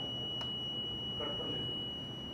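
An electronic voting machine control unit being cleared gives a long, continuous high-pitched beep that holds steady and fairly faint from start to end over a low hum.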